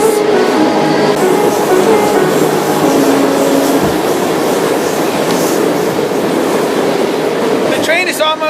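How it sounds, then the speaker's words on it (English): A freight train rolls along a Pacific Northwest main line near Sandpoint, Idaho, heard from on board: a loud, steady roar of wheels and rattling cars with metallic squeals, and a sharp screech near the end. "The train is almost to Sandpoint, Idaho"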